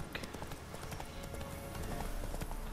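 Horse hooves clip-clop steadily in the Witcher 3 video game, a rapid rhythmic patter of hoof strikes over a busy background mix, moderately loud and continuous throughout.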